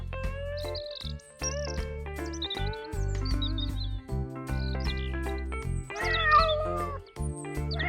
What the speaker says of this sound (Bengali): এ তো মনে হচ্ছে বেশ কয়েকটা বেড়াল